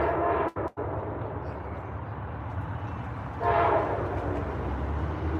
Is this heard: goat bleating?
no